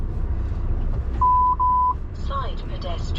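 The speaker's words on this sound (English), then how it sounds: "If you wonder what that beeping is, it's the little cameras what are on the passenger side of the truck" Warning beeps from the passenger-side cameras of a Class One truck driving in London: three steady electronic tones in quick succession, each holding about a third of a second, over constant engine and road rumble.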